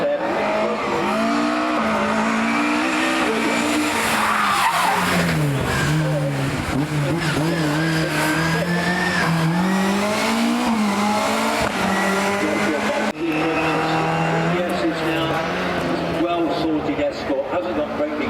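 A rally car at the Prescott speed hill climb runs through a corner slightly sideways, its engine rising and falling in pitch as the revs change, with tyre scrub, close and loud throughout while a commentator talks over it.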